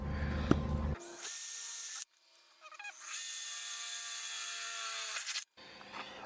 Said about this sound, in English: Spend the extra time on measuring before you drill into your fender